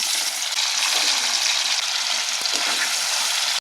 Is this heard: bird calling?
no